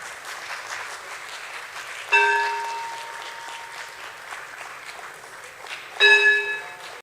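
A crowd keeps clapping steadily at the Jio Financial Services listing ceremony on the BSE, broad continuous applause punctuated by two loud ringing bell strikes that decay slowly over the clapping.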